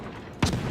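A single loud naval gun blast firing armour-piercing shells from the British destroyer HMS Medea in World of Warships, a sudden booming report after a quiet lead-in.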